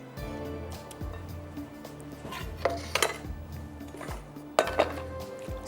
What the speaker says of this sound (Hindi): अब ये खुला बर्तन है, इसमें अच्छी तरह से इसकी मिक्सिंग हो जाएगी।